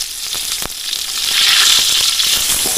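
Fish frying in a pan as a crispy grilled-fried dish (ikan goreng panggang kerutuk), giving a loud, steady crackle and sizzle that swells slightly midway, with no talking.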